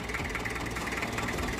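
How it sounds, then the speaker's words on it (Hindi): A four-cylinder Mahindra B-275 tractor engine idles close by with a steady, even chugging rhythm, constant and unbroken throughout. "ट्रैक्टर 4 सिलेंडर होने के वजह से आवाज़ देखिए कितनी प्यारी लग रही है।"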